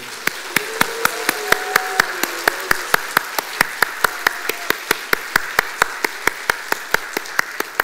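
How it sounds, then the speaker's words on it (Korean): A church congregation claps in unison to congratulate newly baptized members during Sunday worship, giving a steady rhythmic beat of sharp claps over a faint murmur and a low hum of voices. "우리 축하의 박수를 한번 하지"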